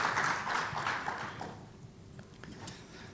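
An audience at an international business forum on Thailand's Eastern Economic Corridor applauds three panelists. The clapping is moderate and fairly distant, then fades out after about a second and a half, leaving a quiet room with scattered faint claps.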